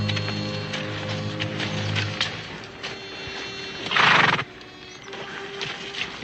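Hitched horses at a frontier camp at dusk give a loud, close whinny near the end, with soft hoof clops and shuffling around it.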